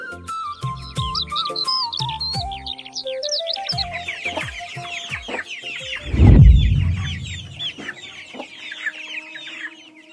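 Household chickens cluck and crow close by in a steady, busy chorus, with smaller birds chirping throughout and a brief louder burst of noise partway through.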